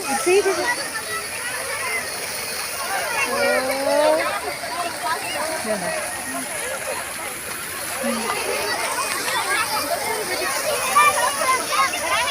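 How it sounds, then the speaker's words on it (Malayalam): Children splash and play in water at a water dance area, with a steady wash of sloshing water under loud, continuous crowd babble and nearby voices throughout. "കുട്ടികളെല്ലാം കിടന്ന് കളിക്കുന്നുണ്ടോ വെള്ളത്തിൽ"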